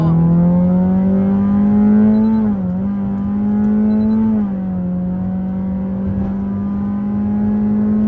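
A Honda Jazz with a CVT, modified to race spec, holds a steady, droning engine rev that dips briefly twice and climbs back, loud and close with no talk.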